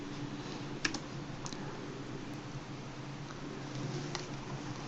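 Keys tapped on a computer keyboard while entering a network command on a Windows Server 2012 R2 machine, a few sparse clicks over a steady low room hum.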